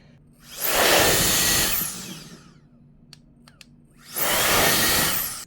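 Two loud blasts from an EUKI adjustable compressed air duster blow at a heavy battery power brick, each a hissing whoosh lasting over a second, with a few faint clicks between them.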